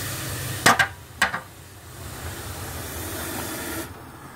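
A steam boiler blower hisses steadily over a wood fire in a 20-inch boiler with copper tubes for a large steam engine, with two sharp metallic clanks near the start, then an even, moderate rush of air.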